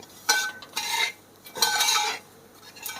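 A spoon scrapes and stirs a dry snack powder (aviloose podi made from puttu) in a pan, with several close metallic strokes in bursts and short pauses between them, no voices.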